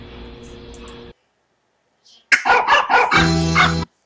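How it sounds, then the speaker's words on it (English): Dog barking in a short burst of several sharp, close barks following a brief silence, after an earlier stretch of background noise. "Just barking like a dog?"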